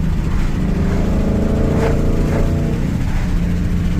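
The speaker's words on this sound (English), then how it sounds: "it sounds like that exhaust opened up a little bit" A loud, steady engine roar from a Whipple-supercharged race truck, with the exhaust swelling into a brief rev midway before settling back to a constant drone.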